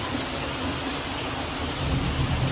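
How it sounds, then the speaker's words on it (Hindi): Rain falls steadily outdoors at a home, an even hiss of drops on surfaces that holds level throughout with no voices. "एक बार बीच में पहले आ गई, दोबारा आई है बारिश"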